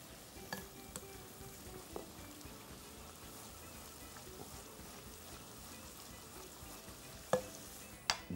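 Spices with red chilli are stirred and fried in a pan, a soft continuous sizzle with occasional scraping clicks of the spoon, quiet and close.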